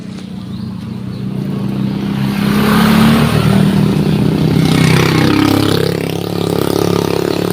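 A motorcycle approaches and passes quickly, its engine note swelling to a loud peak mid-way and then fading off, with traffic noise around it.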